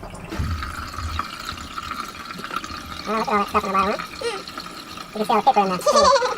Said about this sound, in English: Look, the water coming out there.